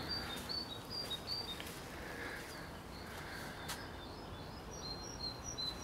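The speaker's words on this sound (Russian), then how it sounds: "Тишина, птички поют." Birds chirp in the quiet morning in Dnipro, Ukraine: short, high, scattered tweets, faint and distant over a soft, still background, with no talking.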